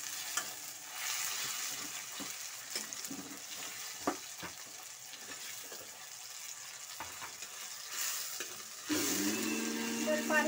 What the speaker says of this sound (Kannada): ಕಟ್ ಮಾಡ್ಕೊಂಡಿರೋಂಥ ಟೊಮಾಟೊ ಎಲ್ಲ ಚೆನ್ನಾಗಿ ಮೆತ್ತಗಾಗೋವರೆಗೂ ಫ್ರೈ ಮಾಡಿ ಎಣ್ಣೆಯಲ್ಲಿ